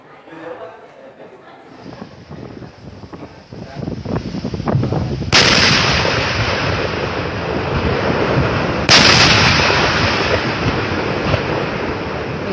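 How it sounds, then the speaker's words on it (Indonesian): Expired ammunition being disposed of by detonation: a series of loud blasts rises into a sustained roaring rumble, with two sharp explosive bursts standing out amid continuous booming and wind-like noise. "Ledakan dahsyat yang terjadi saat kegiatan tersebut menewaskan sedikitnya 13 orang."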